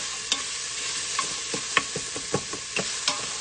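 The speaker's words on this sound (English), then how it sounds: "I'm going to keep stirring this. That way it won't stick to the bottom." Brown rice pilaf with onions gets stirred in a quick cooker pot, a series of irregular scraping and clinking strokes of a utensil against the pot over a soft steady background hiss, with no talking.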